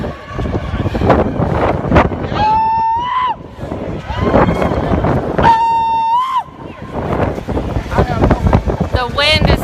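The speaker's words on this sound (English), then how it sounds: "You guys are going to hear a lot of wind." Strong wind buffets an outdoor microphone on a freezing day, roaring steadily while people talk and distant horn-like tooting tones rise and fall.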